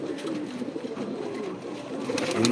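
Pigeons coo softly and repeatedly in a loft, low rounded calls overlapping in a steady murmur with faint rustling, no voices.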